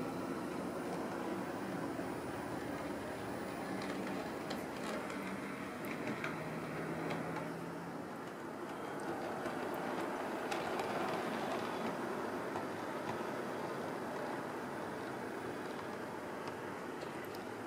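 A Bachmann Class 47 model locomotive runs on a layout toward the Waverley tunnels, making a faint, continuous rumbling whir with light clicking from the track that holds steady throughout.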